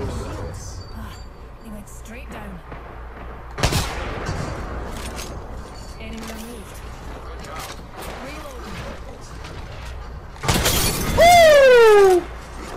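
In the video game Apex Legends, a Kraber sniper rifle fires sharp, loud single shots among scattered gunfire and shattering impacts, ending in a long rising and falling tone, with players talking throughout.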